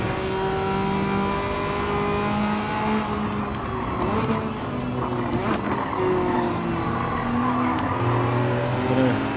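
Small car in Gran Turismo 7 with its engine revving up and down through gear changes, tyres briefly squealing as it slides, heard close and steady throughout.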